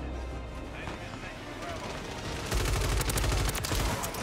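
Rapid gunfire in Call of Duty: Modern Warfare 3, a RAM-7 assault rifle fitted with the Trident X, bursts in loud and close partway through after a steadier background rumble, with talk running underneath.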